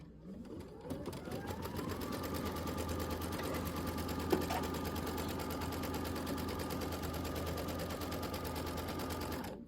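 A sewing machine stitches a batting tack-down on a quilt, running steadily at a constant speed throughout, with a fast, even mechanical rattle up close.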